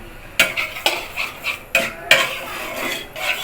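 A metal spoon scrapes and knocks against a pan as masala for chicken roast is stir-fried, with several sharp clanks spaced unevenly over a faint sizzle and no talking.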